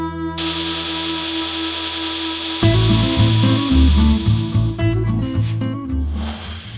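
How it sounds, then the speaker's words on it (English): A Damascus hunting knife blade ground to shape on a power grinder, a loud, steady, tonal whine that turns into a harsher, fluctuating grinding rasp as the steel meets the belt. "This type of grinding your geometry in and getting the blade's thickness down to what you want it to be"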